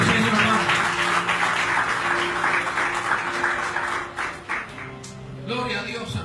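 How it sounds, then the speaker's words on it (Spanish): Congregation in a church service applauding together, a dense, steady wash of many hands clapping that carries on for several seconds alongside sustained keyboard-like tones, then fades slightly before swelling again near the end. "Denle ese fuerte aplauso al Señor, hermano"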